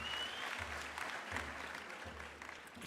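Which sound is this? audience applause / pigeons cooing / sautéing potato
audience applause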